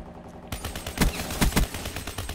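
Rapid gunfire from a weapon in Call of Duty: Black Ops III, sharp, punchy shots in an uneven burst over a busy battle background, close and loud, no speech.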